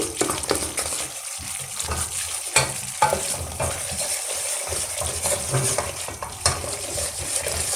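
Besan, gram flour, being stirred and roasted in a pan, a soft steady sizzle with frequent scraping and clinking of a spoon against the pan in an irregular rhythm, close by and without voices.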